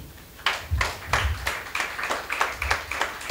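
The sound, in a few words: audience applause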